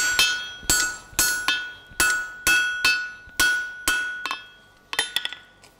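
Hot steel tie bar hammered on an anvil during blacksmith forging: about a dozen sharp, ringing metallic strikes in a steady rhythm, each with a bright anvil ring that fades between blows, close and loud with no talk.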